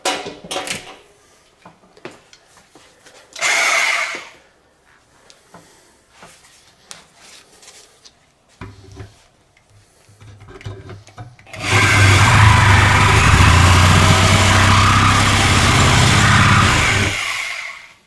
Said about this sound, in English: arguably the best way to tear something apart is with the Sawzall